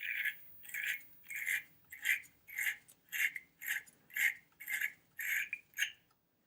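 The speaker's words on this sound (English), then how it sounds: "I'm going to start cleaning this before I take the battery post terminal off. I'll use the clamp brush." Wire clamp brush scrubbing a corroded negative post terminal on a Subaru Outback's car battery, eleven steady back-and-forth rasping strokes in an even rhythm, close and clear with no talking.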